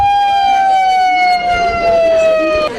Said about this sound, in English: It was a faculty member not knowing what to do with the siren on the...